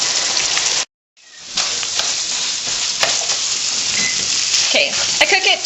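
Ground beef for tacos fries in a pan with a steady, close crackling sizzle. Near the start a brief silence breaks it before the sizzle returns, with scattered pops and stirring scrapes.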